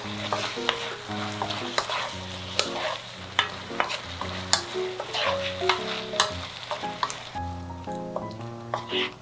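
Eggplant sizzles and is stirred in a pan, with scraping and tossing at an uneven rhythm over soft background music.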